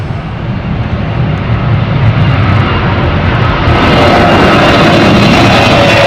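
A Finnair Airbus A350 jet in Moomin livery roars past at London City, a loud, broadband engine rush that swells and holds, heard from a distance with no voices.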